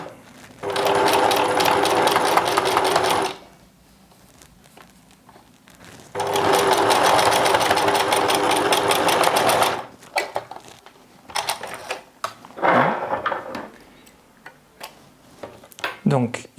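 Domestic sewing machine stitching pleats in a fabric face mask, two loud steady whirring runs of a few seconds each, then short stop-start bursts and clicks close up.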